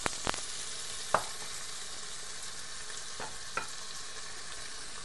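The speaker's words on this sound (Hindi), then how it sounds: "थोड़ा सा मैंने इसको भुना है, अदरक लहसुन और प्याज को। अब साथ ही इसके मैं डाल दूंगी टमाटर" Tomatoes go into a pan of frying ginger, garlic and onion, giving a steady low sizzle with a few sharp clicks and stirring knocks, close and otherwise quiet.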